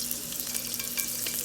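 Food sautés in hot oil in a pan for Jamaican-style rasta pasta with jerk chicken and shrimp, a steady close crackling sizzle with small bursts of spatter throughout.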